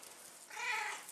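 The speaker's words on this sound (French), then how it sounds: "Mon chat." A house cat gives a single short, fairly faint meow, heard on its own at close range in a quiet room.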